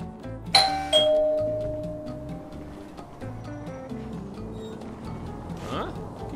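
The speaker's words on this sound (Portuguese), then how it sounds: "Quem será que tá tocando a campainha ali no portão ali, mano?" A doorbell chimes at a mansion gate in the video game GTA V, two bright ding tones near the start that ring out and fade, with low rumbling background and a later chime-like sweep, amid game ambience.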